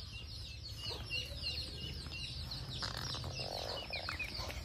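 A rooster clucks and calls repeatedly outdoors, moderately close, with short chirpy bursts over a low background rumble; no talk.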